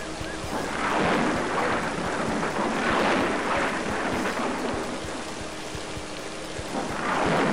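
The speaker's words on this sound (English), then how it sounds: "I can't hear over the thunder." Thunder rolling through a storm in the PC video game Driver, with loud, sustained rumbles swelling and fading over steady heavy rain, and a fresh roll building at the end.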